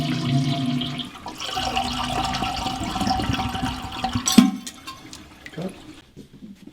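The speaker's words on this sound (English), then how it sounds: "the next step is to flush the toilet, making sure all the water is out of the toilet" A toilet being emptied for a Fluidmaster 400 repair is flushed with the water supply off: a loud, continuous rush of water drains for several seconds, then gurgles and fades away.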